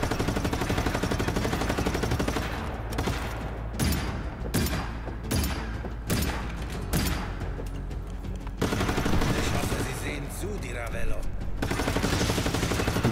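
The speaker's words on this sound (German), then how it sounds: "dann sprengen wir den Spaß doch mal" Explosions and rapid gunfire fill a Just Cause 3 game scene as blasts from blowing things up, with a dense, loud, continuous barrage broken by clusters of sharp bursts and a voice speaking over it.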